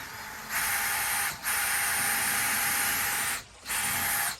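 A power drill whirs in three bursts, high and buzzing, with short pauses between as it bores through material, close by.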